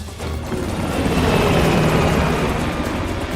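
A loud, continuous helicopter roar in the video game Call of Duty: Black Ops Cold War, with a dense rotor rumble, steady and close, with no voices.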